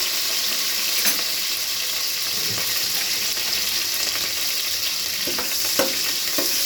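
Curry leaves and green chillies frying in hot oil, a dense steady sizzle and crackle filling the space close up, with a few brief scrapes and knocks and no talk.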